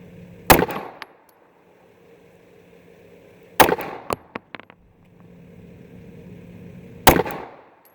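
Three sharp gunshots from a Sig P365 pistol, spaced about three seconds apart, each a loud crack with a quick echo tail. A few smaller metallic clinks follow the second shot.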